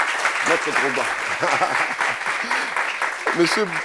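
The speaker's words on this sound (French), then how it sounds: "Est-ce qu'on peut applaudir notre Joël Drogba?" Audience applause at a French gathering about life after prison, a dense steady wash of clapping that runs the whole time while a voice talks over it.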